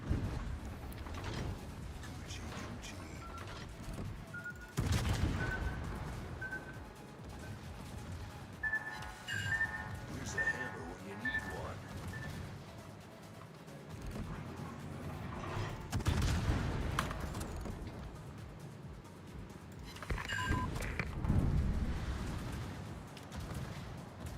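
Naval battleship combat in a video game, with repeated booming salvos and gunfire bursts at intervals over a continuous rumbling battle background, some mechanical clanks and tones between blasts.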